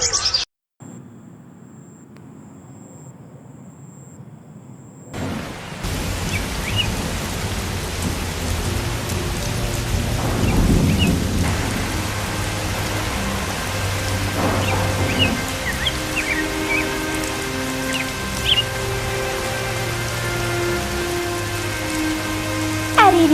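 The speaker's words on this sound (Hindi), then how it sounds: "आज तो बारिश शुरू हो गई है, तूफान भी है।" Steady cartoon rainstorm pours down with low rumbles of thunder rolling through, after a brief quiet start; continuous and fairly loud, no voices.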